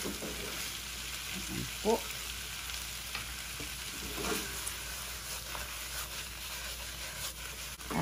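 Bitter melon with spam and tofu being stir-fried with a ladle, a constant sizzle broken by occasional clinks and scrapes of the ladle, fairly faint, with a brief spoken remark.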